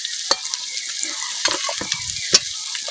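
Spices and a little sugar stir-fried in a pan for a mango fish curry: steady frying sizzle with a few sharp scrapes and knocks of the spatula against the pan.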